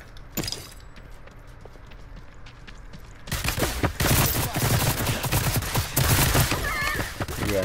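Rapid gunfire in the battle royale video game Realm Royale, a quiet stretch with a single early crack giving way to a dense, loud burst of repeated shots and impacts that fills the last four seconds.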